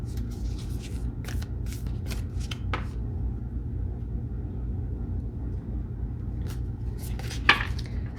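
Tarot cards are shuffled by hand in a series of quick papery riffles and slaps, close and crisp over a steady low background hum, with short gaps between bursts.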